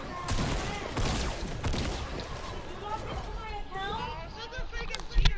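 Video game gunfire crackles in rapid volleys of shots under overlapping, excited voices talking throughout.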